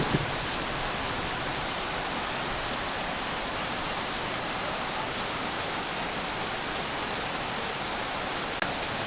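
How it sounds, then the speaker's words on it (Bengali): Heavy rain pours steadily over a village, a dense, unbroken hiss that stays loud and even from start to finish with no voices. "আজকে প্রচুর বৃষ্টি হইতেছে"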